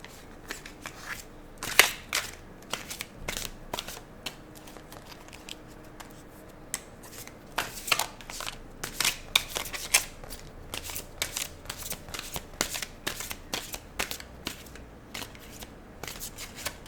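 A deck of tarot cards is shuffled and cut by hand, giving repeated soft riffling and slapping bursts at an irregular rhythm, close and fairly quiet.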